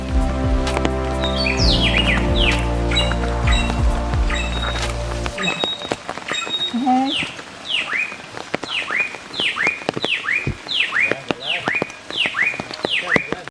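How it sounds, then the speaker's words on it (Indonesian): Birds chirp along a wet forest trail on the way to Waerebo in rain, with repeated bright descending tweets in a steady run, at first under a loud low droning hum that cuts out after about five seconds. "sepanjang perjalanan kami ditemani oleh kicauan burung-burung yang cukup menghibur."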